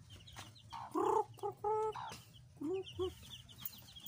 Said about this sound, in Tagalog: Ito lang po yung nanay nila ng mga sisiw